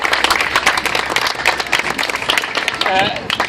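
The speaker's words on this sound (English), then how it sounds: "let's give Steve a round of applause in advance for all the work he's about to do" A crowd at an outdoor groundbreaking ceremony in Potrero Dogpatch claps loudly and steadily for a community leader, dense applause with a voice rising briefly near the end.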